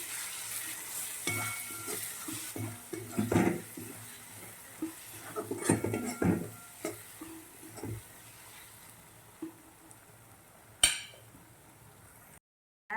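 Spices stirred into cowpeas in a pan: a utensil scrapes and clinks against the metal with a soft sizzle, in uneven bursts of stirring over about twelve seconds before falling quiet, with one sharp clink near the end.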